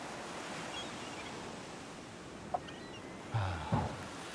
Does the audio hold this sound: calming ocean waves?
yes